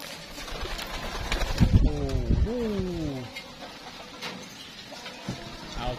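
Pigeons coo with a few clear, drawn-out calls in the middle, close by, over a noisy outdoor background, at feeding time outside the coop.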